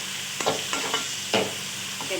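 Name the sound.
onions frying in hot oil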